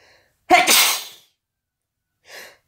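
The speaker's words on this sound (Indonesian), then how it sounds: "ya saya bersin itu ya" A single loud, close human sneeze bursts out sharply after a moment of quiet, followed by a softer breathy exhale, during packing of an embroidery machine for shipping.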